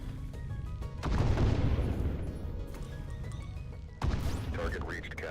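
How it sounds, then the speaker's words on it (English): A missile flies and strikes its target in the sci-fi space game Breachway, a rumbling swell followed by a sharp impact and crackling explosion, with a voice speaking over the action. "Missile is in flight."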